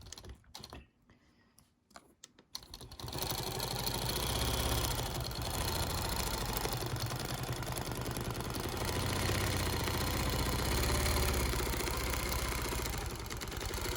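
A quilting machine stitches steadily along a quilting ruler after a brief pause, its fast, even mechanical whir running close and continuous to the end.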